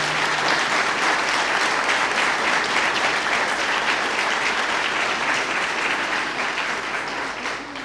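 Sustained, dense applause from an audience at a book presentation event, many hands clapping loudly and evenly throughout, easing only slightly toward the end.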